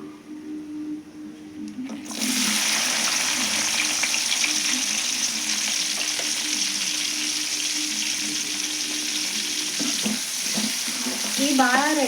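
Chopped onion dropped into hot tempering oil, bursting into a loud, dense, continuous sizzle after a quieter start, close up and steady, with a few clatters of a spoon near the end.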